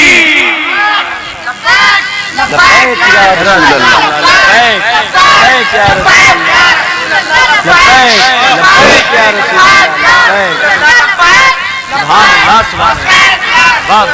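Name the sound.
crowd chanting the Takbir slogan in response to the call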